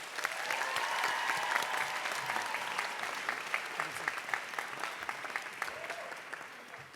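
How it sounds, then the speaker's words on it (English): Sustained applause from a sizable crowd at a university commencement, dense clapping that stays strong and then thins slightly toward the end. "please join us in a round of applause for these outstanding educators, staff, and administration"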